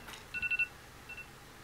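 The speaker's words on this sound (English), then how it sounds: "That is an alarm." An alarm gives a quick run of four high, evenly spaced beeps, then one fainter beep after a pause. No one speaks during it.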